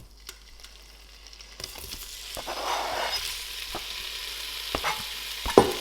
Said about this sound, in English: I'll add some olive oil in there, and we'll start cooking